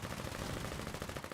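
Machine gun fire in the video game Foxhole, a rapid continuous burst of shots in quick rhythm, fairly faint and distant-sounding, lasting the whole short moment.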